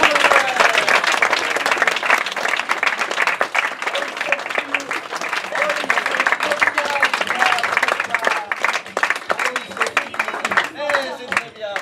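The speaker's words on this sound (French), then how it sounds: "Applaudissements." Audience applause at an improv comedy cabaret in Paris, dense steady clapping from a crowd sustained for several seconds, loud and close, with a few voices calling out over it.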